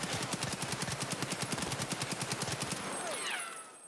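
Full-auto rifle fire from an M4A1 or AKM in Escape from Tarkov: about two dozen rapid, evenly spaced shots in one continuous burst, then the firing stops and a thin ringing tail fades out.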